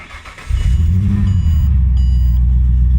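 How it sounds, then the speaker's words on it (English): A Ford BA BF Falcon fitted with a Walbro fuel pump cranks and fires, settling quickly into a loud, steady idle rumble close by, with no talking. "the car started straight away without any issues at all"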